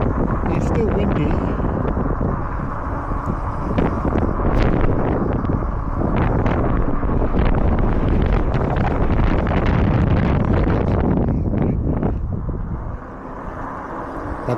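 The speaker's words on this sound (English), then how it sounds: "It's still windy." Strong wind buffets the microphone continuously while riding an e-bike, a loud steady roar with gusty surges, and a voice speaks briefly over it.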